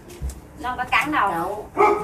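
A dog barks and yips in a Vietnamese home setting, short sharp barks mixed in with nearby people talking.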